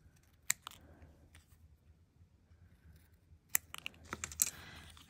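Scissors snip through card for a concertina craft card: a few sharp, separate cuts with quiet gaps between them, then a quicker run of snips near the end, close and fairly soft with no talking.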